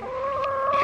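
Chickens clucking in a farm setting, a steady, continuous run of close, moderately loud calls with no talk over them.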